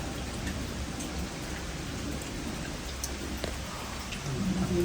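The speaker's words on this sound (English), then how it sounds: "it's raining heavy and the water's flooding everywhere" Heavy rain pours steadily during a stormy night at an old mill, a dense, continuous wash of drops on surfaces with no letup, alone and without voices.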